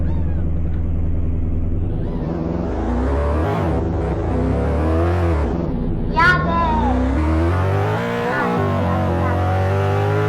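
Car driving in a Polish roleplay video game, its engine droning steadily with rising and falling revs as gears shift, loud and continuous, with a voice talking over it.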